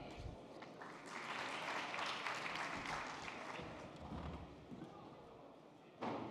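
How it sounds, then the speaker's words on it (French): An audience at a conference on land use and urban development applauds a guest, with a moderate swell of clapping under a French-speaking host's voice that fades and then resumes briefly at the end. "Vous pouvez l'applaudir"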